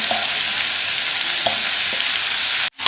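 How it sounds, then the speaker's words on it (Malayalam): Snake gourd and dried shrimp being stirred in a frying pan: a steady broadband sizzle with a few soft utensil scrapes, close and continuous, cut by a brief drop near the end. "ചെമ്മീനും ഉപ്പും എല്ലാ സംഗതികളും കൂടെ മിക്സ് ആവാൻ വേണ്ടി ഒന്ന് ഇളക്കി കൊടുക്കാം കേട്ടോ"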